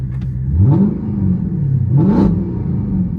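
A Chrysler 300 SRT 392 engine revs loudly twice, each rise swelling into a throaty roar before dropping back to a rumbling idle.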